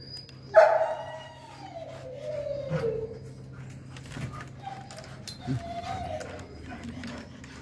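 Dog being worked up with a towel, giving a loud yelp followed by scattered growls, whines and short barks amid rustling, with people talking faintly in the background.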